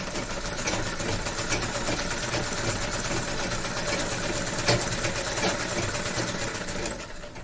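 A sewing machine runs stitches through plain paper with no thread loaded, giving a steady, close, continuous mechanical whirr and rapid needle clatter that holds even throughout.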